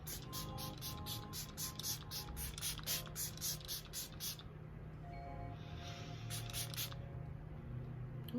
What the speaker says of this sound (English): I'm just gonna go ahead and spray this on my face